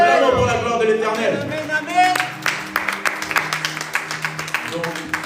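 A church congregation breaks into applause during a French-language sermon: scattered hand claps build into steady, moderately loud clapping, while a voice and sustained organ or keyboard tones sound early on.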